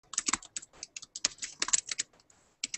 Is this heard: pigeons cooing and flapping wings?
no